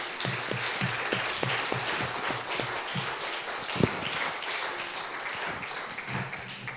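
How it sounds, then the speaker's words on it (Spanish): An audience at a bioethics session on frozen human embryos applauds the speakers: a warm wash of many hands clapping, with sharp individual claps standing out early before the sound thins out. "me gustaría que les diéramos un aplauso a todos ellos"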